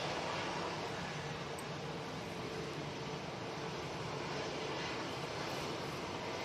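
A jet airliner's engines roar steadily at Manchester Airport on a windy day, a loud, continuous broadband rumble with no break and no voices over it.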